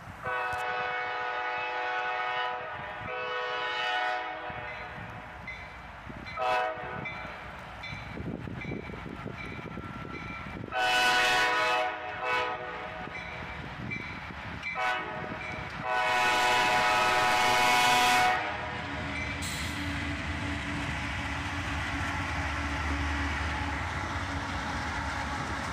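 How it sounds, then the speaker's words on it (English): A freight train hauled by three locomotives, led by an ES40DC, passes close by with loud horn blasts, a steady engine roar and rolling wheel noise. "And check that out, three locomotives on this one."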